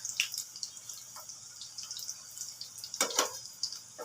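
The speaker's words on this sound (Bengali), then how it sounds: "সেই তেলটা ঢেলে দিলাম।" Leftover cooking oil from a bowl is poured out while making potato pakoras: scattered light drips and small splashes, close and fairly faint, arriving in irregular bursts with a heavier cluster near the end.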